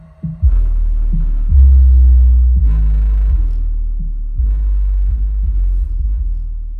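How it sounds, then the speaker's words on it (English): Deep, booming subwoofer bass from an Infinity sub powered by an AudioControl LC-1.1500 amplifier, pushed near 900 watts. Heavy, throbbing low notes pulse in a steady beat, loud and sustained, and no voice is heard. "giving that Infinity sub all it can handle, and it sounds so clean"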